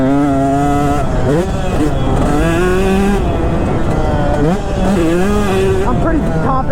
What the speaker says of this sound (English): gonna go ahead and just like hit it on the throttle and see if I can land into the flat